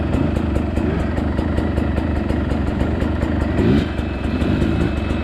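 A trials motorcycle engine on a steep badlands climb, holding a loud, close, throbbing mid-pitched idle with a quick throttle blip and swell near the end, no voices.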